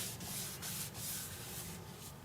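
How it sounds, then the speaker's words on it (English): Steady, close abrasive rubbing with a gentle periodic rhythm, like sandpaper worked against a turning ambrosia cherry wood bowl, with no voices. "The sanding feels fine"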